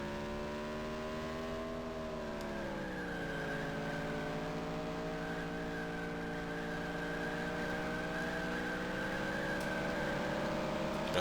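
Race truck engine held at full throttle in the NASCAR Racing 19 video game, a loud steady harmonic whine that dips in pitch briefly then holds high and constant, with no talk over it.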